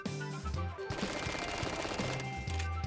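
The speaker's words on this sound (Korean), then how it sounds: "스팅어는 발로란트에서 가장 빠른 발사 속도를 가지고 있어서 근중거리에선 폭발적인 화력을 보여줄 수 있습니다" Rapid automatic fire from the Stinger submachine gun in the video game Valorant, short bursts of fast, crackling shots in quick succession, close and fairly loud with no voices.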